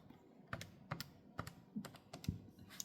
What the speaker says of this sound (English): if you type 75 pi in your calculator